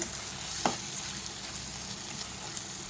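Salt and spices sizzle as they are stir-fried into a squid gravy in a pan, a steady frying hiss with one brief scrape of the spoon early on.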